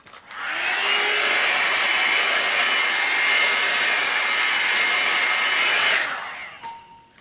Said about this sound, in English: I do kind of want to still blow dry a little bit